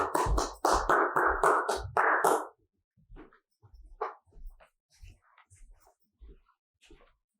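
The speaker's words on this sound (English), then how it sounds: "Walk quickly backwards, clapping your hands in return." Sharp hand claps in a quick burst of about six, close and loud, during a dog relaxation training exercise while walking backwards, then quieter taps and rustles follow.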